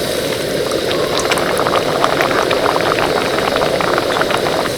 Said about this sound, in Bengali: চলুন এবার এটাকে ভেজে নিই।